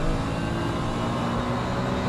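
Race cars in Assetto Corsa multi-class racing, driving past Mazda MX-5s, a dense, continuous engine roar held at high revs throughout, loud and close, with no pauses or voices.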